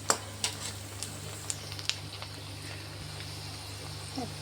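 Onion fries in oil for a chivda vegetable dish, giving a faint, steady sizzle with a few sharp pops and clicks scattered across the first half.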